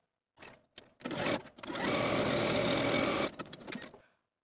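A sewing machine stitches fabric tie pieces for a wrap skirt along a 5/8 inch seam: a few short stuttering starts, then a steady, close whir lasting about two seconds before it stops.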